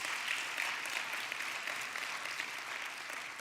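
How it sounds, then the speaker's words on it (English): Steady, dense applause from a large crowd, continuous and even throughout with no pauses, sounding full and moderately distant. "How about a round of applause for the Hollister Foundation?"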